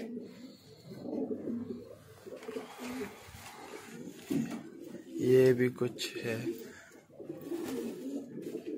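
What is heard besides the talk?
pigeons cooing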